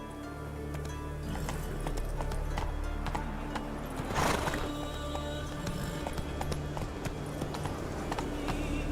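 Roach, the horse from The Witcher 3 Wild Hunt, gallops in a continuous, close, rapid rhythm of hoofbeats over a steady rumble, with one brief louder burst midway.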